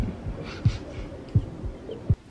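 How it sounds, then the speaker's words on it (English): Heartbeat sound effect from the 1995 movie Friday: three low thumping beats, evenly paced and close, over a faint background hum with no talk. "You're supposed to hear your heartbeat zoned out?"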